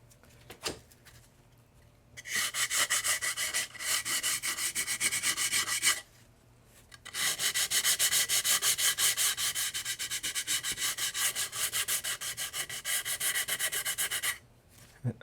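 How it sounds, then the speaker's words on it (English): Hand sanding of a rough piece of material: two long stretches of steady, rapid back-and-forth rasping strokes, close and fairly loud, separated by a short pause. "Let's sand it a little bit."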